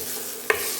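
Potato and pea bhaji is stirred in a steel wok as it sticks to the pan. A quiet sizzle runs throughout, broken by one sharp metallic scrape of the spoon near the middle.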